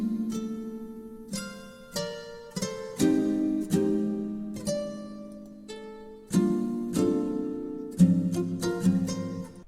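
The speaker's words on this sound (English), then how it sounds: "Alright, so for the chords, this is what we got here, okay?" Synthesized chord progression for a breakdown section of an FL Studio electronic track, sustained layered chords changing every second or so with sharp attacks and slow decays, played clean with no other sounds.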